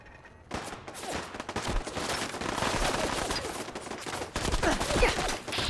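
Dense, sustained automatic turret gunfire in Fallout 4 rattles continuously for several seconds, loud and close, with bursts overlapping in a busy game battle.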